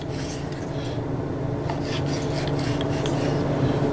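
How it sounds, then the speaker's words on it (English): A knife saws through pork tenderloin on a board, cutting it into strips with a continuous rasping, scraping texture, close and steady for several seconds. "I'm going to cut it into some strips like this."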